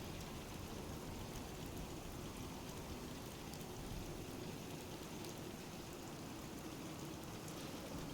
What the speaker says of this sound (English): get out of this infernal rain